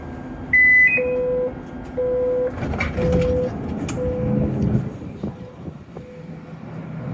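A tram runs over track switches at full speed with low rumbling and clattering over track joints, while repeated electronic beeps sound at a steady rhythm throughout.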